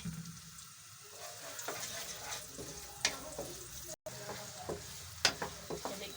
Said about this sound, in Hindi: हमने ऑयल दोबारा से गर्म कर लिया। अब इसमें ये प्याज डाल देते हैं।